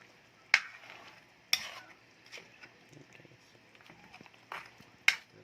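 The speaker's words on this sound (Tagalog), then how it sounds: "Halu-haluin nyo pa misa-misa kasi baka yung gata nyo manikit sa ilalim." A spoon stirs pork binagoongan spare ribs simmering in coconut milk in a pan, with soft scraping and bubbling broken by sharp clinks of utensil against the pan at irregular intervals, and someone speaking between them.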